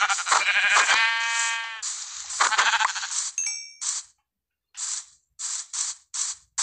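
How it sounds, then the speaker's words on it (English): Blocky sheep in Minecraft bleat in short bursts under a mix of game chimes and clicking interface sounds, followed by several brief, separate high-pitched cues after a pause. "I know I saw a sheep, where is it at?"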